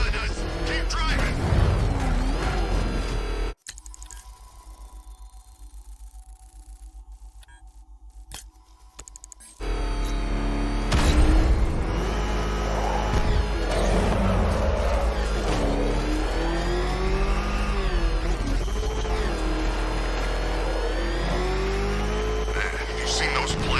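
A car in Batman: Arkham Knight drives and revs hard, its engine loud and close with rising and falling pitch, a brief quieter gap partway through, and voices talking over the roar.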